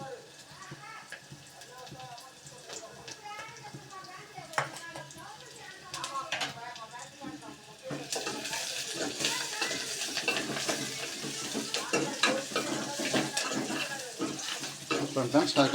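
Coconut, black pepper and garlic mix in a pan: soft stirring and scraping with someone talking over it, then after a few seconds a louder, busier sizzle that swells and keeps crackling to the end.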